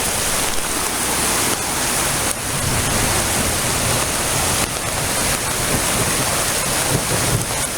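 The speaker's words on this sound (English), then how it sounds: "gushing water. I've never seen it like this down here." Storm water gushes and rushes past at close range in a loud, unbroken roar, with gusts of wind buffeting the microphone throughout.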